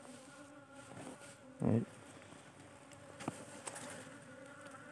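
Bees buzzing as newcomers circle down from above toward a hive box set in a large tree, a steady faint drone with one brief louder pass close by and occasional short ticks.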